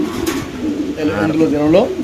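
A pigeon coos nearby in soft throaty warbles, rising at the end, while a person talks over it.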